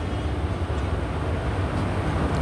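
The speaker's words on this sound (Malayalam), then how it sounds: "ഈ ട്രെയിനിന് കൊടുക്കാനുള്ള ലോക്കമാണ് അവിടെ ദൂരെ നിന്ന് വരുന്നത്" A WP-class diesel locomotive approaches from a distance to couple onto a Kollam–Alappuzha passenger train, its steady low engine rumble constant throughout with no voices.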